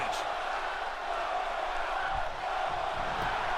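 A wrestling crowd chants at a live pro wrestling show during a pin attempt, a dense, steady roar of many voices filling the hall with no clear breaks.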